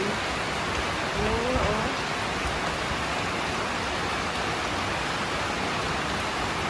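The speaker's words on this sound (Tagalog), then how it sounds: "Lakas talaga ng ulan." Heavy rain pours down in a steady, dense roar, loud and unbroken throughout with no voices.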